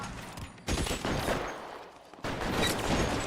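Gunfire in the video game L.A. Noire: loud, dense volleys of shots in two sustained bursts, separated by a brief lull.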